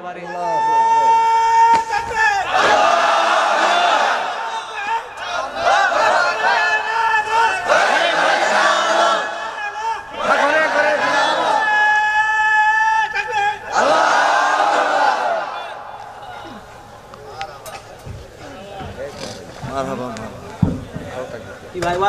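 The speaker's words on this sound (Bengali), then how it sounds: "লিল্লাহে তাকবীর একজন একটা তাকবীর দেন তো বাবারে" A large crowd at a Bangla Islamic waz sermon gathering in Bogra shouts takbir together in loud, repeated roaring waves, then fades to a quieter hum of crowd murmur.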